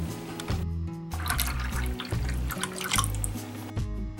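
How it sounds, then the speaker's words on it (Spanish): Milk is poured into condensed milk for an egg flan, a steady liquid splash and trickle heard up close over a soft tonal background. "Y le agregamos 2 medidas de esta de leche."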